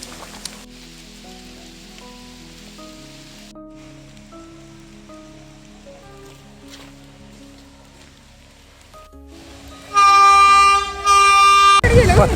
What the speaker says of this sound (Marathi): पाठीमागून रेल्वे आलेली आहे